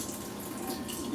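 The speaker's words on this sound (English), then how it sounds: "I just kind of get a little bit of that water out, as much of that water out as I can." Soaking water being poured off sprouts in a kitchen, a steady, soft trickling wash of liquid, faint and continuous with no voices.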